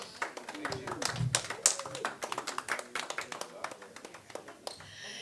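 Audience at a stand-up comedy show clapping in scattered, sharp claps that thin out toward the end, with someone talking over them.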